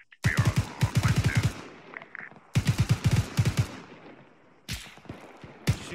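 Automatic gunfire in the Arma 3 shooter, set in a 2004 Iraq armored combined-arms battle, with three loud close bursts of rapid shots separated by short pauses and echoing tails.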